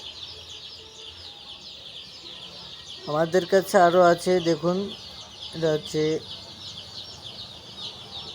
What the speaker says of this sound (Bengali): কক মুরগির বাচ্চা এটা আবার সবাই মনে করেন না যে ব্রয়লারের বাচ্চা এটা ককের বাচ্চা